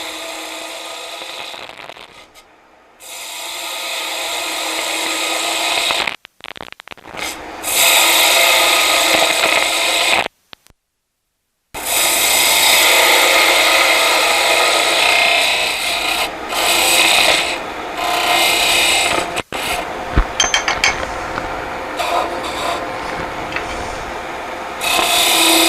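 A wooden oval tool handle is turned down to size on a lathe with a continuous, loud, close rasping scrape. The cutting is broken by a few short pauses where the tool lifts off.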